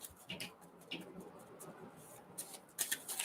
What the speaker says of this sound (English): So while I'm shuffling for Cancer